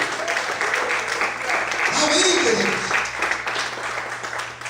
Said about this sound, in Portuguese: Será que você pode aplaudir e glorificar a Deus?